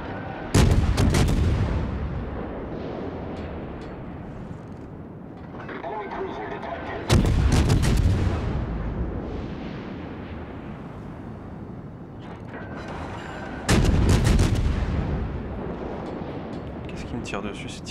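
Heavy 380 mm naval shells from the battleship Tirpitz in a video game crash in as three loud, deep booming impacts spaced about six seconds apart, each trailing a long rumbling decay while someone talks between them.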